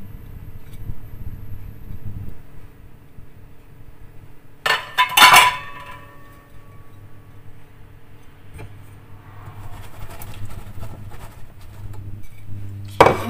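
Metal pots and pans clink and clatter as a lid goes onto a pot of tomato soup on the stove, with a sharp clank midway and another at the end over quiet kitchen background.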